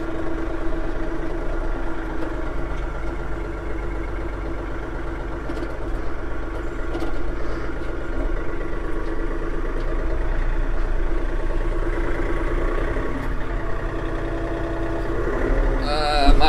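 A tractor engine runs steadily at low revs on a farm while land is cleared for a larger chicken yard, with a constant rumbling idle throughout and a brief louder swell near the end.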